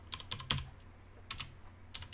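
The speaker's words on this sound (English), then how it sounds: "I'm going to type" Keys clack on a computer keyboard in quick irregular bursts, a few sharp taps grouped together with short pauses between, close and fairly quiet.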